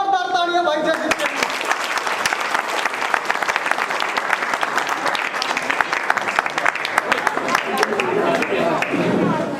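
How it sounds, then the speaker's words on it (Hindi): A large crowd at a village political support rally for Jaideep Singhmar in Bitani claps loudly and steadily for several seconds, dense applause after a brief opening moment of speech. "एक बार जोरदार तालियां भाई जयदीप के लिए"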